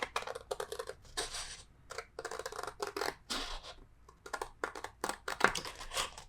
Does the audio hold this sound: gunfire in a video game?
no